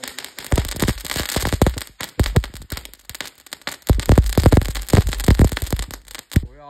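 A string of small red Diwali firecrackers going off in rapid, irregular bursts of sharp, loud, close cracks and pops, with a few short gaps before it ends.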